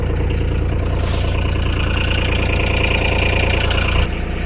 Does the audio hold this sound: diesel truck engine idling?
yes